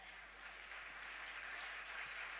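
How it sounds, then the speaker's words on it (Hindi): An audience at a Jain religious discourse claps in steady, even applause, soft and distant, with no voices over it. "आप लोग अपने लिए एक बार सम्मान में तालियां बजाएं।"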